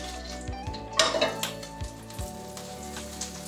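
Winter flounder frying in butter in a pan: a soft, steady sizzle with a few clinks of a pan and utensil, quiet and close.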